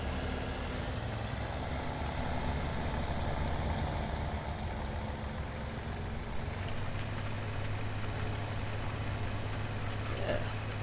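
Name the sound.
utility tractor engine cultivating in Farming Simulator 2017 video game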